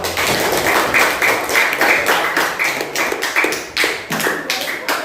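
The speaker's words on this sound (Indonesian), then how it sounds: "Tepuk tangan dulu untuk kelompok 1." A class applauds a student group, dense close clapping from many hands continuing steadily for several seconds before tapering slightly.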